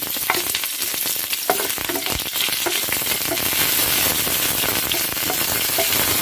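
Urad dal, fresh curry leaves and dried red chillies sizzling hard in hot oil for a tempering, a loud, dense, continuous crackle with small pops throughout, close up and with no talk.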